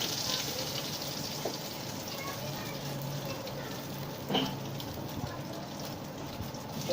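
Egg tikkis for anda burgers frying in a pan, Pakistani street style, giving a steady hissing sizzle that runs throughout with a brief louder crackle partway through.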